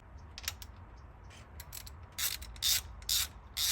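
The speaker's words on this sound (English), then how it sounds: "these 3 bolts are what's keeping the valve cover on, so we're going to take these off" A hand ratchet loosens valve cover bolts on a 1986 Toyota Corolla engine, first soft scattered clicks, then several louder, close bursts of rapid ratcheting near the end.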